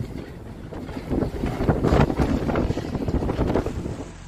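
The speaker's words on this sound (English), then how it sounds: "A powerful hurricane hit Batumi and other coastal cities of Georgia" Hurricane-force wind in a severe coastal storm in Batumi, Georgia, roaring and buffeting the microphone in rising and falling gusts that are loudest in the middle.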